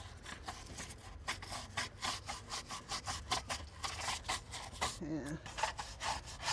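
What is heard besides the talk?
scrubbing a garden fountain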